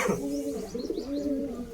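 Pigeons coo close by in a brief run of soft, rolling low calls, with faint chirps and a little background noise.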